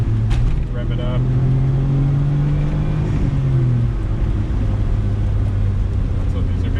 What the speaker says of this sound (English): It's got a pretty nice sounding exhaust from the factory, Suzuki Sport exhaust.